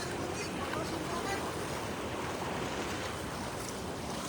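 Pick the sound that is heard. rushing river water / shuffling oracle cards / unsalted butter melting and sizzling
rushing river water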